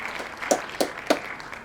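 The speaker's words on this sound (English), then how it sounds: "Let's give him a round of applause," Light studio audience applause on a talk-show set, a soft clapping bed with three sharper, evenly spaced claps standing out near the front.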